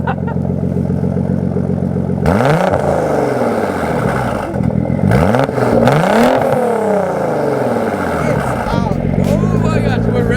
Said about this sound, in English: Oh my gosh, we're revving inside.